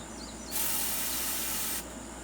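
A can of wasp spray hisses in one steady burst of about a second and a half, loud and close, with a quiet background before and after.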